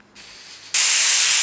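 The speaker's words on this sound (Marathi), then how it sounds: "आता एक शिट्टी कुकरची आपली झालेली आहे" A pressure cooker cooking rice for veg biryani over a medium flame lets out a sudden, loud, sustained steam whistle that bursts in after a softer hiss and holds steady to the end.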